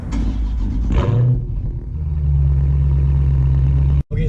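A 2018 Dodge Charger Daytona 392 pulls away, its engine giving a brief rev before settling into a deep, steady low rumble heard from inside the car, with a short drop-out near the end.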